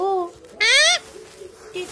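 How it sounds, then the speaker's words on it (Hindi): A pet parrot at home gives a few harmonic calls close by: a short call at the start, a loud, rising, shrill squawk in the middle, and a brief call near the end. "ए बदमाश तोते"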